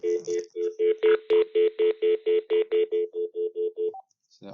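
A VTech cordless phone keypad gives a rapid series of beeps, roughly fifteen short tones in steady rhythm, clear and close, followed by a brief pause and one higher blip.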